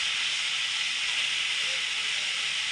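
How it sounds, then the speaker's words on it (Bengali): Fish fries in a little hot oil, giving a steady, even sizzle and hiss close by that continues without a break. "মাছটা দিয়ে দিই, তেল গরম, কত অল্প তেলে মাছ ভাজা হয়ে যাচ্ছে"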